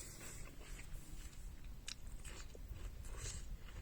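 Someone bites and chews a crunchy, juicy, underripe supermarket Nashi pear, with a quiet string of close, crisp crunches and wet chewing sounds.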